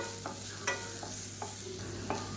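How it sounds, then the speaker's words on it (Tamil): Large onions sauté in a pan with a soft, steady sizzle. A spoon scrapes and stirs in several short strokes, close by and fairly quiet. "இப்போ வெங்காயம் ஓரளவுக்கு நல்லா வதங்கிடுச்சு"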